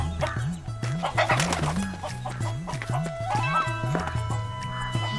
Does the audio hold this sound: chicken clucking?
yes